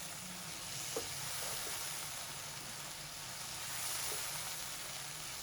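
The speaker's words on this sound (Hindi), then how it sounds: "अब इसको मिक्स कर देंगे मसालों को" Spices stirred and mixed in a hot pan for a chicken reshmi handi give a steady, quiet sizzle and hiss, with a few faint scrapes of stirring and no talk.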